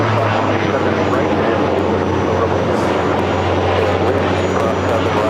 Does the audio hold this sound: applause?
no